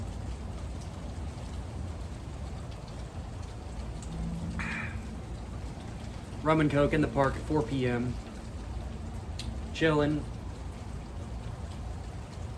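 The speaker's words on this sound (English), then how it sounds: "Listening to the rain." Steady rain falls in a public park on a rainy afternoon, a constant even hiss that carries through the whole stretch, while someone talks casually over it in short bursts.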